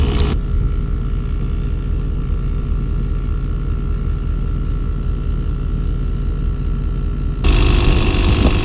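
Audew 12V portable tyre pump inflating a car tyre, a loud continuous rattly motor drone heard close up for the whole stretch, with a slight jump in level near the end and no talk.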